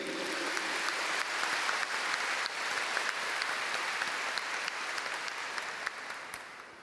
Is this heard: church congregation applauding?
yes